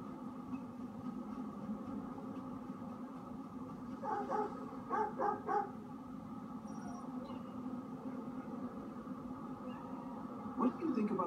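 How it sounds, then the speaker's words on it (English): Dogs in Watch Dogs 2 bark in short clustered bursts, a couple of sharp volleys at moderate distance over a steady low background hum, with another brief bark near the end. "Doggies!"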